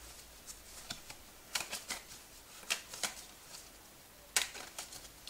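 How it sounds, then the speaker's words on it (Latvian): Playing cards being shuffled up close, in a series of quick crisp riffling bursts at irregular intervals, with no talking. "iedodiet skatītājiem, lai viņš samaisa kārtas."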